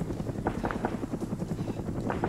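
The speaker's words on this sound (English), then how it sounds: "I was also just going to the sound of the helicopters." Helicopters in the Arma game's Vietnam-era jungle setting, a steady low rotor thrum with rhythmic chopping that runs unbroken through the whole stretch, moderately loud and a little distant.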